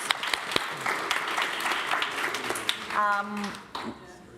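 Audience applause at the close of a conference session, a dense spread of clapping with a few sharper claps standing out and a voice briefly rising through it near the end.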